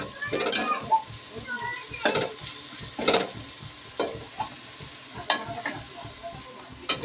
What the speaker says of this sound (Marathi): टॅमॅटो सुद्धा मी आता टाकलेला आहे.